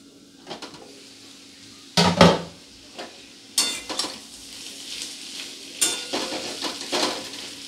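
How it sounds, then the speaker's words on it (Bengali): Potatoes fry on low gas in a covered pan with a quiet sizzle, broken by several sharp clatters and scrapes of a spoon stirring against the metal pan. "গ্যাসটাকে আস্তে করে এইভাবে একটু ভেজে নেব, যাতে আলুটা নরম হয়ে যায়"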